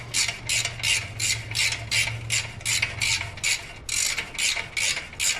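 A ratchet wrench works loose the front exhaust pipe fasteners on a 1999 Harley Dyna, giving about a dozen quick, evenly spaced bursts of close metallic clicking over a faint low hum.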